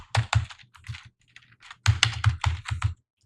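Someone types quickly on a computer keyboard, close by, in two bursts of crisp clicking keystrokes with a brief pause between them. There is no speech.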